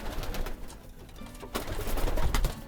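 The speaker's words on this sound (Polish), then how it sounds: "Niebieski gołąbek. Budowa perfekcyjna bardzo piękny ptak." Blue racing pigeon in a loft cooing amid dense rustling and bird noise, soft repeated low calls under a busy, close background with no speech.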